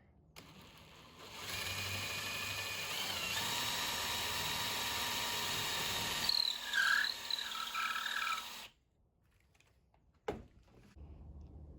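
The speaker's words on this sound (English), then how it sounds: "now I've got a 1/4 inch drill bit. I'm gonna send that about, I don't know, 1/2 inch." A 1/4 inch bit drills into cypress wood for a duck call, a steady high whine running for several seconds, then cutting off and followed by a short knock.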